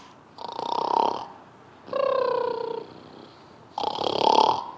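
A voice imitates snoring: three long, loud rasping snores, the middle one more tonal and whistling, separated by short pauses.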